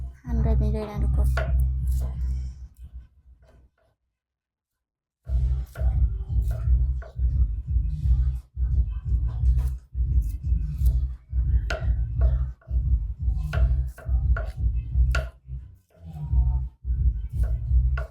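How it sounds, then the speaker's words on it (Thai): A knife chopping beef for laab into small pieces, rapid close strikes on a cutting board that break off for a brief silence, then resume as a steady, loud run of chops. "หั่นแบบนี้เลยนะทุกคน"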